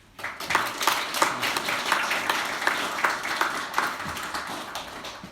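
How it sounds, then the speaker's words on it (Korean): A Korean church congregation at Sunday worship greets a visiting pastor with a close, lively round of clapping that starts abruptly and continues evenly without talk. "박수로 환영해 주시기 바랍니다"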